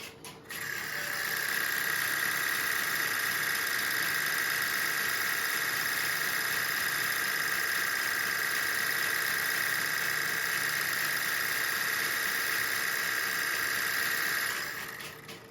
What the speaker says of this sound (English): We'll look at the 16 and 25 hertz generator.